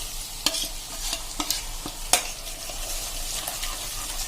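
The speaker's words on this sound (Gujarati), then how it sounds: "હવે એમાં આપણે જે આ દહીં મસાલામાં મિક્સ કર્યું છે એ આપણે નાખી દેશું અને ફૂલ સ્પીડે આપણે એને ચલાવશું" A spoon scrapes and clatters briskly in a pan as a yogurt masala mix is stirred at full speed into fried onions for a potato curry, with a soft sizzle underneath and no talk.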